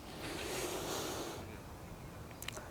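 Deep, slow inhale through the nose during a morning breathing and stretching exercise, a soft airy rush close to the mic lasting over a second and then fading, with no talking.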